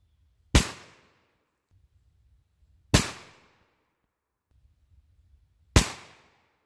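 Three single shots from a Colt Python revolver at a range, each a sharp loud crack with a brief decaying tail, evenly spaced a few seconds apart, with faint low background noise between.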